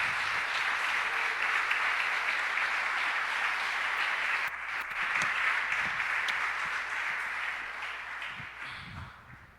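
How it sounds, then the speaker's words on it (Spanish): Congregation at a church service applauding together, a dense, steady wash of clapping that carries on for several seconds, dipping briefly midway and then tapering off, with no talk over it. "Démosle un gran aplauso a nuestro Dios por eso"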